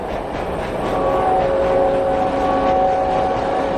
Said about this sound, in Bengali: ট্রেনের ঝমঝম শব্দে বড্ড অস্বস্তি হলো।